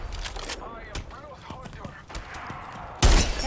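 Gunfire during an Apex Legends match: scattered rapid shots crackle under players talking, ending in a sudden loud, close burst of fire.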